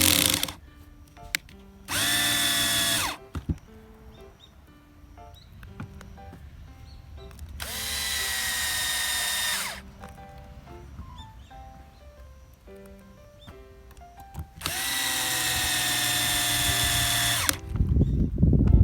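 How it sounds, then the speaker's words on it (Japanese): A power screwdriver drives screws into a Kyosho RC car differential, running in three bursts of two to three seconds each, with quiet handling clicks and small part sounds between them. "で最後ネジを留めるんですが"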